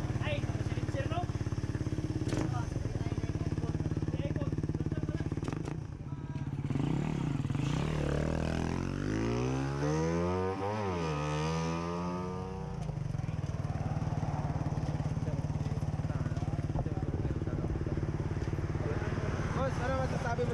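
A motorcycle running without a silencer, its raw, loud engine clattering steadily, with a rising and falling rev sweep in the middle while people talk over it.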